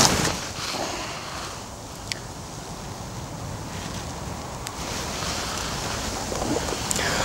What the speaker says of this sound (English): Ooh, overhanging trees and a gusty wind.